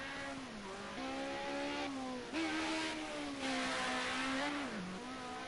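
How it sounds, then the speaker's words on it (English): Ford Sierra Cosworth Group A touring race car engine at the Nordschleife, a clear buzzing tone rising and falling with quick gear-change steps, steady and close throughout. "Do like the sound of these Sierra Cosworth."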